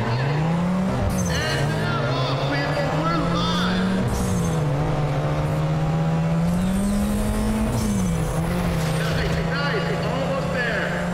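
A race car in the Need for Speed ProStreet video game drives hard with a loud, steady engine drone that shifts in pitch, along with tire squeal and skidding. Talk is audible over the continuous engine noise.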